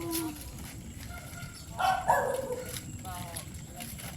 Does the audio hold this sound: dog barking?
yes